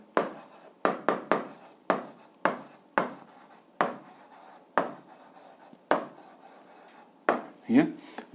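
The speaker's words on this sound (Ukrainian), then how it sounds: "записуємо відповідь, пишемо відповідь" Answer being written by hand during an 8th-grade algebra lesson: about a dozen short, crisp scratching strokes and taps in an irregular rhythm, close and fairly loud, with no talking.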